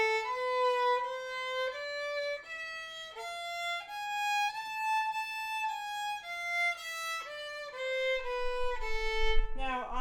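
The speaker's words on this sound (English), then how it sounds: "So the harmonic minor scale sounds like this." A violin plays a one-octave A harmonic minor scale, bowed notes stepping upward and back down one by one, clear and close with no accompaniment, followed by a brief rustle at the end.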